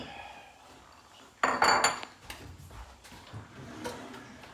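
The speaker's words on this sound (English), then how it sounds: "So we're going to get a couple of bowls out." Bowls come out of a kitchen cupboard with a sharp clatter of dishes and a clink of ceramic, followed by a few softer knocks and scrapes. The clip is otherwise quiet, with no speech.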